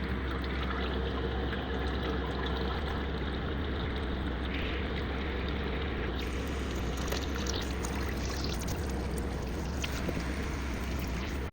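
Engine oil draining from a hybrid Toyota Camry into a pan, a steady close splashing pour that runs without pause, with no talking.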